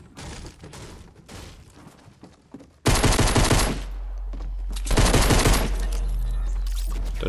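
Automatic gunfire from Fortnite Battle Royale rattles in loud bursts, with quieter game sounds before a sudden close fusillade and a second sustained burst.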